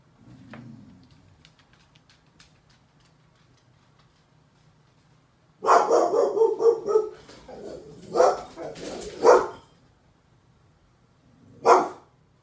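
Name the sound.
dog barking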